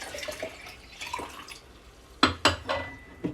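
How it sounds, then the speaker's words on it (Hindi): Water being poured into a pan while making suji halwa, heard as a few short splashing bursts and drips, near and fairly loud, with quieter trickling before them. "मैं इसके अंदर ये पानी डालती हूँ"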